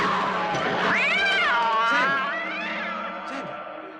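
A cat screeches and yowls in a drawn-out, wavering caterwaul from a horror zombie film, loud and close, rising and falling over several seconds with a short sharper cry near the end.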